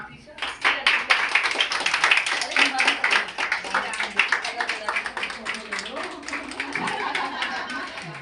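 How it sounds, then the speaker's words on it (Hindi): A small group at a Women's Day celebration claps, distinct sharp hand claps arriving in a quick, uneven rhythm close by, with people talking over and between the claps. "तालियां जोर से बजाओ थोड़ा"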